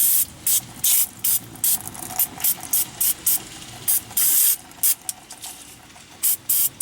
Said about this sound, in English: We're going to clean the caliper with a little bit of brake clean.